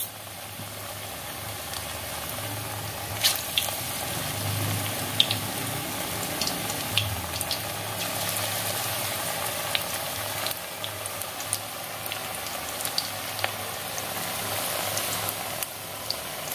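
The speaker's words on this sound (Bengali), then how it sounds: "এবার আমি পেঁয়াজিগুলো ভাজা শুরু করলাম" Onion pakoras frying in hot oil in a wok: a steady, moderately loud hiss with scattered small crackles and pops throughout, no voices.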